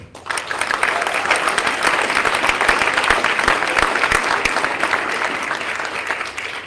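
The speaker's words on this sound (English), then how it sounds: "let's clap once while I walk all the way over there" Audience members clap at a school board meeting honoring students, a loud, continuous burst of applause starting sharply and holding steady throughout.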